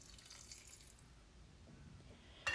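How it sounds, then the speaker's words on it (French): Water is poured briefly into a pot of pumpkin for risotto, a quiet running trickle that ends in a sudden louder splash at the very end. "J'ajoute un peu d'eau."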